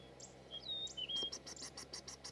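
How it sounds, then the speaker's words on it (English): A long-crested eagle calls in Queen Elizabeth National Park, Uganda, with thin high whistled notes followed by a quick series of sharp repeated chirps, faint and alone against a quiet background. "What type of bird is that? That is the long-crested eagle."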